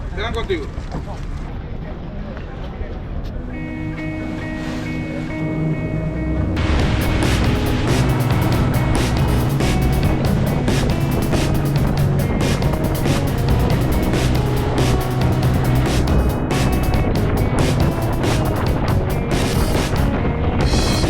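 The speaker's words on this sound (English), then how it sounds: "for our boat driver to come drive our boat" A loud, steady motorboat roar with rushing wind and water noise on the ocean off Cartagena, building after a few seconds and continuing throughout, with voices faintly underneath.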